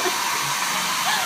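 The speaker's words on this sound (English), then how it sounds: "With a blow dryer." Hair dryer blowing hot air onto food, a close, loud, steady whooshing rush that holds constant for the whole moment.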